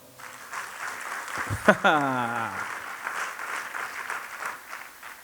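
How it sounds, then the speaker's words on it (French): A church congregation acclaims with sustained applause and cheering, a steady crowd roar broken near the middle by a loud, rising, sliding shout that fades back into the clapping. "on dit merci au Seigneur par des acclamations"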